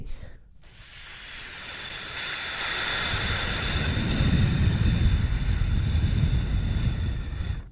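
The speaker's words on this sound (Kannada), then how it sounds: "ವಿಮಾನ ನಿಲ್ದಾಣದಿಂದ ವಿಮಾನವು ಬಿಡುವ ಶಬ್ದವು ಹೇಗಿತ್ತು ಎಂದರೆ" A steady, broad jet roar builds and swells over several seconds, with a high whine on top, like an airplane powering up for takeoff nearby.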